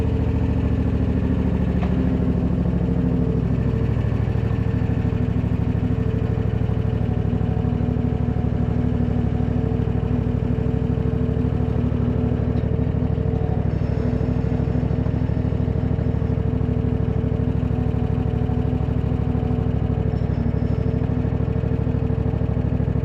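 A zero turn mower's engine runs loudly and continuously close by as the machine drives on its hydrostatic drive. The note stays steady for a long stretch, with only slight shifts in pitch.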